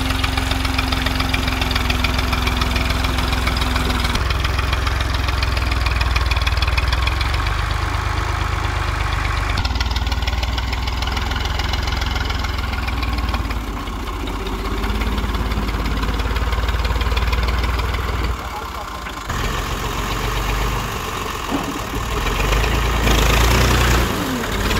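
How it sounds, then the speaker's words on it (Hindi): A heavy diesel tractor engine runs steadily and loudly throughout, a low continuous rumble with slight shifts in pitch and load, no voices. "अभी बस लास्ट चक्कर है ट्रैक्टर का।"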